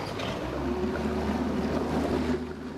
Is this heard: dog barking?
no